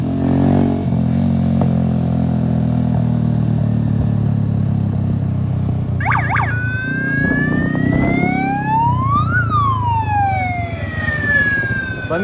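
Siren mounted on a motorcycle, rising and falling wails and short yelping bursts sounding loud and close over a steady idling engine rumble, with no talk.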